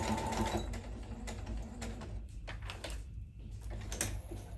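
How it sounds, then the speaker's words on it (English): Sewing machine stitching fabric for a bustier corset top: a close, continuous mechanical whirring and rattling with short pauses and restarts, no voices. "I'm going to go ahead and open this other side like so, and then just sew it."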